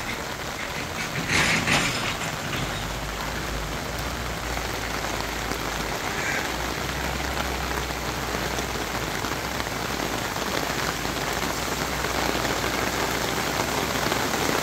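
Steady, heavy rain pattering on a farm and vegetable garden nearby, a dense continuous hiss with a faint low rumble underneath.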